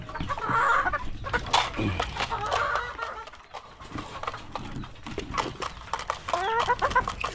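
Chickens cluck and squawk loudly and continuously nearby, agitated bursts rising and falling over several seconds with no talking.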